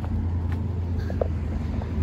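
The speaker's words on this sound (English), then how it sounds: "I can't cross the road here because of these damn cars." Cars pass along a busy city road in Sydney, a continuous low traffic rumble close by with a few faint higher sounds over it.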